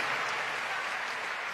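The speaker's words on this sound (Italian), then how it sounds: "Fate un applauso, Alessandro." Large concert crowd applauding at San Siro stadium, a brief, steady roar of clapping and cheering, moderately loud and continuous.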